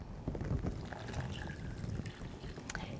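Water poured from a tap or jug over fresh fish fillets in a shallow plastic freezer container, a steady close splashing trickle lasting throughout with no speech.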